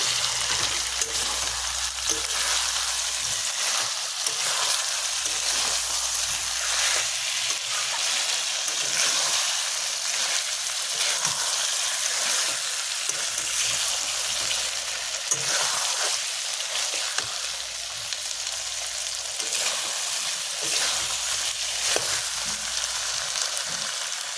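Potatoes and meat sizzle and fry steadily in a pan while a Bengali-style meat curry is sautéed, a dense, continuous crackling hiss with faint stirring scrapes throughout.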